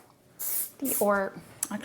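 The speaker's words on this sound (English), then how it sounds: "This is the R+Co Vicious Stronghold Flexible Hairspray. Again, spraying up into the hair, so you don't collapse the volume," R+Co Vicious Stronghold Flexible Hairspray sprayed upward into hair, two or three short hissing bursts close by, with someone talking between and over them.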